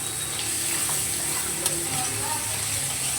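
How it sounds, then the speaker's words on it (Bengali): Onions fry lightly in a pan for a taro leaf dish, making an even, close hiss of sizzling oil with faint crackles and no talking. "তবে আমি একটু পেঁয়াজ দিলাম। একটুখানি হালকা ভাজা ভাজা করে নেব"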